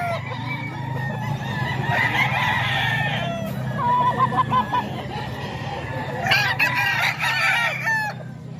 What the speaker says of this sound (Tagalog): Ito po manok.